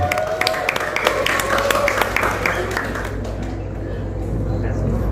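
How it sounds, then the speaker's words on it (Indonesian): Audience applause at a film press conference swells into a dense, close clatter of many hands, then thins and fades away over the last couple of seconds. "Beri tepuk tangan untuk Bapak Victor G."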